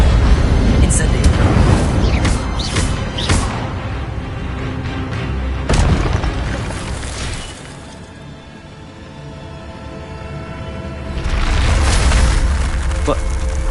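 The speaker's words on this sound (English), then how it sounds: "Incendio!" Incendio fire spell cast in Hogwarts Legacy, sharp bursting whooshes and booms repeating over the first seconds, loud and close, with a later flare of crackling energy; a voice speaks over parts of it.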